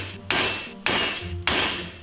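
Three evenly spaced, sharp metallic hammer blows ring out close by on a rainy day while slip-on spacers are fitted during a Lexus GS300 rally car build, each strike followed by a brief ringing decay.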